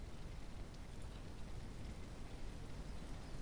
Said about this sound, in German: es fängt wieder an zu regnen.